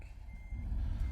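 A heavy truck in American Truck Simulator backs up its trailer, with a steady reversing beep over a deep, continuous engine rumble that grows fuller midway through.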